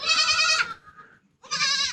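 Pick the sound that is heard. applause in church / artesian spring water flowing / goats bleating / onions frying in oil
goats bleating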